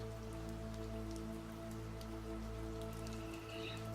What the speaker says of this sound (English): rains, this cleansing water coming from source.